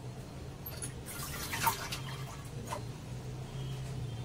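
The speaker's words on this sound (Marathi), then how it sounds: "आता अजून मी थोडंसं पाणी टाकणार आहे त्यामध्ये" A little water is poured into horse gram (kulith) pithi simmering on low gas, giving a soft, faint splash and trickle, with a short burst near the middle over a steady low hum.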